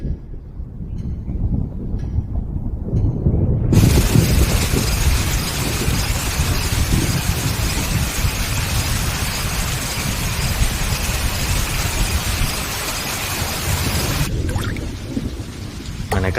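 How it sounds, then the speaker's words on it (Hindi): Heavy rain pours steadily with a broad, loud wash, rumbling low thunder underneath, starting abruptly after a few quieter seconds and easing slightly near the end. "आज बारिश होगी।"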